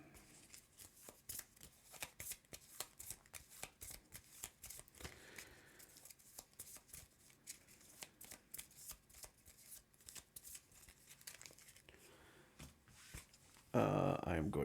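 A deck of cards is shuffled by hand during a solo card game session, rapid riffling bursts repeating in quick irregular rhythm, close and crisp, ending with a brief louder rustle.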